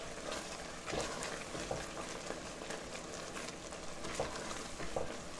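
A thickening agent is stirred into gumbo vegetables in a pot, giving a faint, steady sizzle with soft scraping stir strokes recurring every second or so, with no talking.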